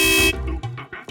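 A car horn sounds in a short, loud blast on a busy neighbourhood street, then voices talk briefly over faint background noise.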